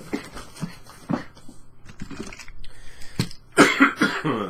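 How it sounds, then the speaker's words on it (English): A few rough coughs close to the mic, spaced irregularly, ending in a louder harsher burst. "sorry about this cough."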